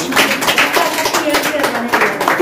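An audience at a Jain women's federation gathering gives a brisk round of applause, with dense clapping filling the clip and voices mixed in.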